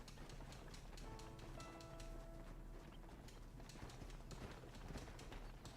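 Horse hooves clip-clop steadily in Red Dead Redemption multiplayer, a continuous rhythmic trotting over a constant background bed, with no talk.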